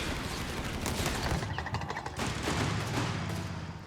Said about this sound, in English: Did manage to cap that before the machine gun opened up.